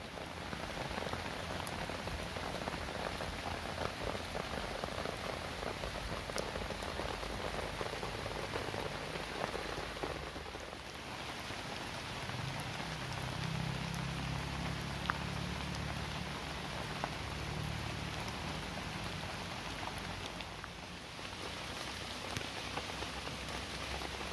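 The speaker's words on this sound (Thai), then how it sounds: "ฝนก็ได้ตกลงมาต่อเนื่องครับ แล้วก็หนักด้วย" Heavy rain falls steadily on surfaces at a riverside camp beside a river, a dense continuous patter that stays loud and even throughout with no voices.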